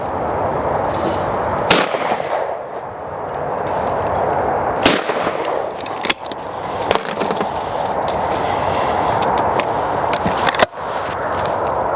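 Shotgun fired at pairs of clay targets on an outdoor range, several sharp reports spaced a few seconds apart, some in quick doubles, over steady wind and background noise.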